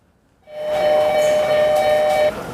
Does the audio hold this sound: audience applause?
no